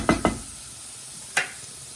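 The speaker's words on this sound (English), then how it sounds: "So I think the vegetables are very well sauteed." Vegetables sautéing in a pan for chilli chowmein: two quick stirring scrapes close together, then a third a moment later, over a faint steady sizzle.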